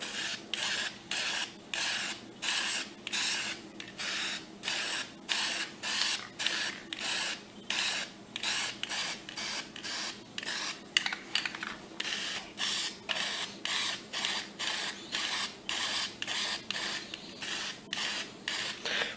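Spray paint can hissing onto an M1A rifle stock in rapid short bursts, a steady pulsing rhythm of brief sprays close by, with no talking.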